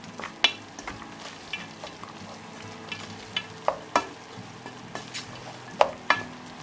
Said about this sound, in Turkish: Şam fıstığını ekliyorum. Ve hepsini birlikte çok güzel bir şekilde kavuruyorum.